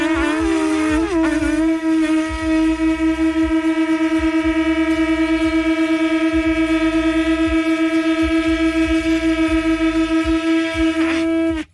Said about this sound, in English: we're going to honk these conchs for you.